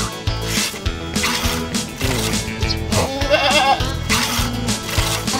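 Goats on a small urban goat farm where does have just given birth: bleats rising repeatedly over a dense, loud background with a steady low rhythmic pulse.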